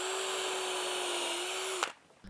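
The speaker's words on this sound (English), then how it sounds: "So here I'm starting the screw in the wood" Power drill driving a screw into wood while building a sliding barn door partition wall: a steady, close electric whine that runs evenly for nearly two seconds, then stops abruptly.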